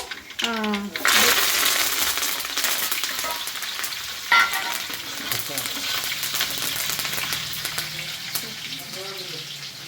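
Peanuts, cumin seeds and curry leaves fry in a pan for a North Karnataka dish, giving a loud, steady sizzle with stirring scrapes and a sharp clatter partway through.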